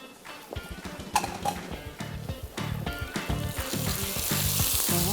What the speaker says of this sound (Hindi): प्याज हमारे कितने प्यारे ब्राउन हो रहे हैं